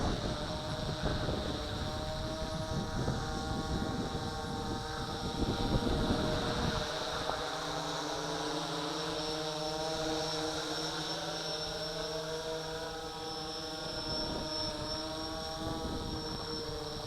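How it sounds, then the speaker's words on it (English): A large GPS quadcopter drone, the XK Aircam X500, hums steadily overhead with a droning whir of its propellers that shifts in pitch as it passes, with wind noise around it. "Here it comes overhead. Impressive big quadcopter."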